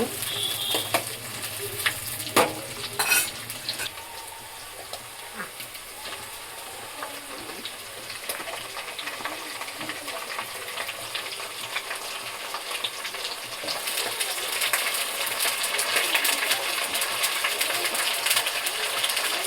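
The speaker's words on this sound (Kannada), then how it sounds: "ಬೆಳ್ಳುಳ್ಳಿ ಸ್ವಲ್ಪ ಫ್ರೈ ಆದರೆ ಸಾಕು, ಜಾಸ್ತಿ ಫ್ರೈ ಆಗೋದು ಬೇಡ." Garlic frying in oil in a pan for an eggplant (badanekayi) gojju, a steady soft sizzle that runs throughout, with occasional light clinks of a utensil and no talk over it.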